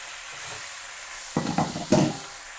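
Macaroni cooks in a pan under a soft, steady sizzle, with a few close scraping stirs breaking through near the end.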